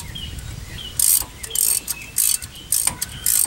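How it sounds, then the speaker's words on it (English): A hand ratchet works bolts on a 1997 Dodge Ram 1500 during a front U-joint replacement, giving several short bursts of bright, rapid clicking separated by brief pauses, close and clear. "And I've got a ratchet"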